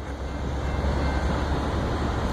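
A CSXT F001 freight train rolls past at Dudley, making a loud, steady rail rumble that stays constant throughout without any voices.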